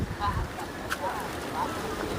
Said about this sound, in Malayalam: നല്ല തണുത്ത കാറ്റടിക്കുന്നു